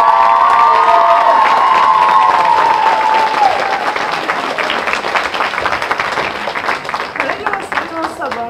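An audience at a children's workshop breaks into sustained applause and cheering, dense clapping mixed with shouts and a voice rising over the crowd, fading slightly toward the end.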